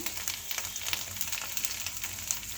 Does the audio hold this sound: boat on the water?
no